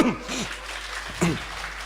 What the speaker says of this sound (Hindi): एक मरतबा मुशारा कमेटी के लिए जोरदार तालियां बजा दोस्तों